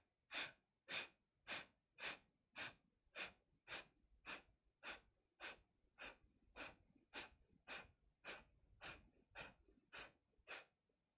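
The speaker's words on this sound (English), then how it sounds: "As you finish those sharp exhales, we continue again. We take that deep breath in." Yoga breathing exercise with rapid, sharp forceful exhales through the nose, about twenty quick rhythmic huffs in an even steady beat, close and fairly quiet.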